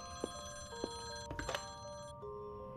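A telephone rings in a horror video game, with a sustained bell tone and a few clunks and knocks over it. The sound is clear and moderately loud against a low background hum.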